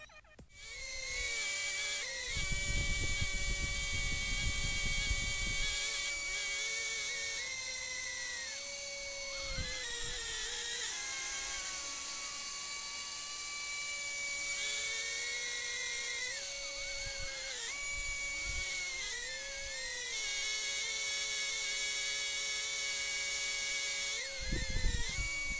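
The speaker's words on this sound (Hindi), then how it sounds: "तो अभी मैं ड्रोन का एक छोटा सा फ्लाइंग टेस्ट दिखा देता हूँ" An Eachine E013 FPV camera quadcopter drone flying, its tiny motors giving a steady high-pitched whine that shifts in pitch as the throttle changes, continuous and fairly close for the whole stretch, with no talking.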